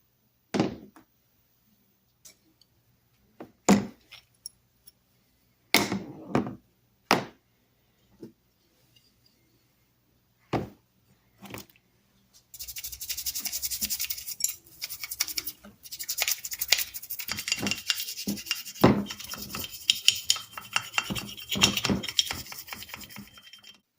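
Vintage hand plane being taken apart and scrubbed of grease and rust: scattered metallic clunks and knocks of parts being set down early on, followed by a steady busy stretch of scrubbing and scraping, with no talking.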